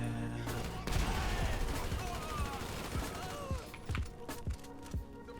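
A burst of game gunfire in Grand Theft Auto V, dense rapid shots fired at a man over a loud, busy mix of game sound and music, the firing tapering into a few scattered shots and footsteps.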